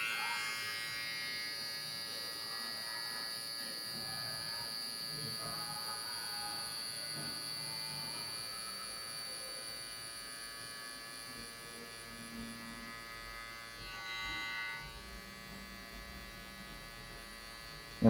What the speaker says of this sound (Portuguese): Só removendo a leve marcação com a pontinha da máquina